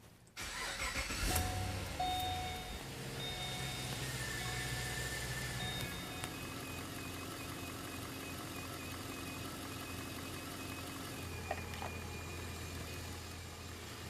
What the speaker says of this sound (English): All right, we'll start the engine.